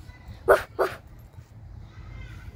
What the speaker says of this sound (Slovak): Dobrý psík.